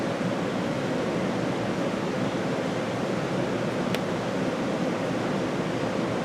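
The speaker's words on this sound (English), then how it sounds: "Vigorous bubbling." Magnesium metal fizzing vigorously in hydrochloric acid in a test tube, a steady, dense hiss of bubbling that continues evenly throughout, close and alone with no talk.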